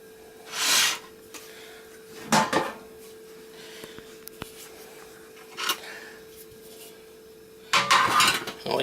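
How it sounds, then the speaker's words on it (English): Two metal spoons and a baking tray are handled while making rock buns, giving a few short, sharp clinks and scrapes spaced apart over a quiet kitchen background. "get 2 spoons. You're going to get your tray."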